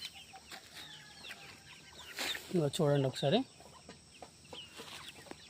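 A chicken clucks and crows in a short burst of loud calls midway, with smaller bird sounds and a brief spoken remark around it.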